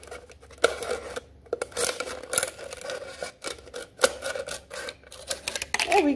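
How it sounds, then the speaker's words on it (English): Scissors cut through the bottom of a plastic water bottle in a string of close, crinkly snips and rasps, with plastic crackling irregularly between cuts. "I'll proceed to cut off the bottom where there is no color"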